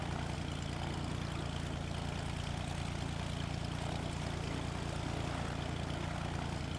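A propeller aircraft engine idles at low throttle in Microsoft Flight Simulator X, a steady, continuous drone that holds evenly throughout with no voices.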